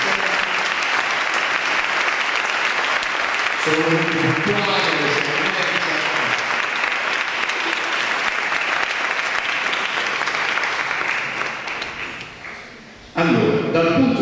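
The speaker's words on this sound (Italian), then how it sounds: "Io farei un applauso a questi ragazzi." Strong audience applause in Camerota, dense continuous clapping that fades toward the end, with a voice speaking over it partway through and again as the clapping dies out.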